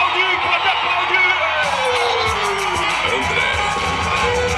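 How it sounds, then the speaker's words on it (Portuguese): Rodeo crowd at a bull-riding event in Hidrolândia, Goiás, cheering, whooping and applauding in a loud, dense, continuous roar that swells partway through, with scattered shouts rising above the mass of voices. "pode aplaudir"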